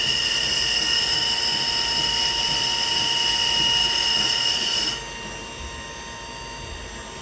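A Palmary OCD-3260 external diameter grinder runs its wheel dry with no coolant, giving a steady whining hum with high tonal lines, loud and continuous before dropping to a quieter level partway through.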